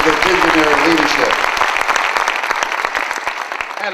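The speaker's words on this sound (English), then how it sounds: "Give them a tremendous round of applause for their visionary leadership" A large audience gives a round of applause for the event hosts at a professional speaking event, loud dense clapping that thins into scattered individual claps toward the end, with a voice briefly heard at the start.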